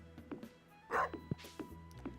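A dog barks a few times in a farming video game, short yips spread across the moment amid soft game sounds and faint weed-cutting noises.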